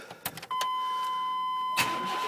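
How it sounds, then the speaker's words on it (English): A 1997 Chevy Tahoe truck engine cranks briefly and catches, settling into a steady idle with a constant warning chime tone running over it. "truck starts right up"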